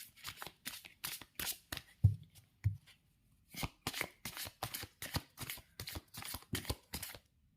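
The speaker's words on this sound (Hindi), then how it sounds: "इस डेक से निकालते हैं कुछ कार्ड्स।" A tarot deck being shuffled by hand: quick, crisp riffles and slaps of cards in rhythmic bursts, close and fairly quiet, with a short pause in the middle.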